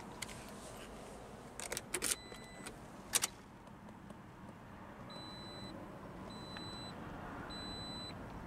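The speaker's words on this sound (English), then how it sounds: "On the key, you've got the buttons for lock, unlock, trunk release, and panic." A couple of soft clicks, then three short, evenly spaced electronic beeps from a 2018 Toyota Corolla LE key fob, faint and close by in a quiet setting.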